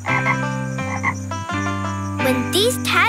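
A frog croaks repeatedly at close range, a loud series of low, pulsing, tonal calls in several bursts, with a few higher chirping noises near the end.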